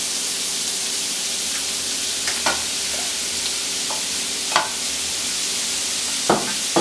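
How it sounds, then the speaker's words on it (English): Sausage and rice frying in a pan give a steady loud sizzle, broken by occasional scraping stirs of a utensil against the pan. "fry this for a minute or 2"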